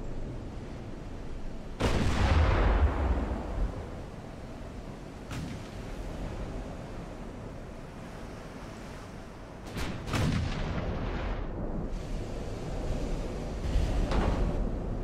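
Naval guns fire shells in the warship game Ultimate Admiral: Dreadnoughts, with a few heavy booming salvos at about 2, 10 and 14 seconds, each rolling off over a constant wind-and-surf rumble, with no voices.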